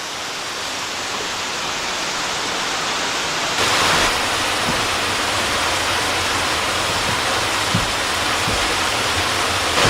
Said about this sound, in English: I guess that's our waterfall.